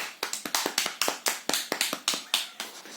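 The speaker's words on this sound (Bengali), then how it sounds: "হাততালি করো।" A young child's hands clapping about a dozen times in a quick, slightly uneven rhythm, close and clear, with no talk over it.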